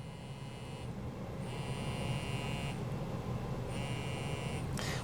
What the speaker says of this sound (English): I should get a page on my pager